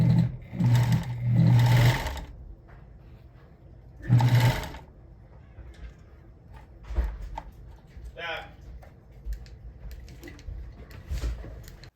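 A sewing machine stitches beaver-fur gauntlet liners in two short, loud bursts, then falls quiet while someone talks nearby.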